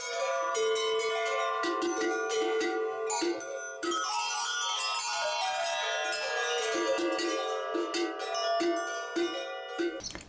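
A collection of mountain livestock bells and cowbells rings together, with overlapping metallic clangs and sustained tones that keep up a dense, continuous jangle for the whole stretch, close and loud.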